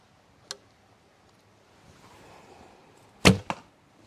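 Arrow loosed from a Hungarian-style bow with two-fletched arrows, heard as a sharp snap followed later by a loud whooshing release and a quick second crack, fairly close, with no talking.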